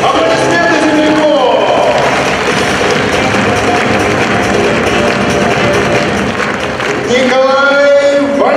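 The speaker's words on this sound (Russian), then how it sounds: "Аплодисменты земляку!" A large crowd at the athletes' parade of the DRAKA 14 fight event claps and cheers steadily and loudly, a dense roar of applause that swells again toward the end.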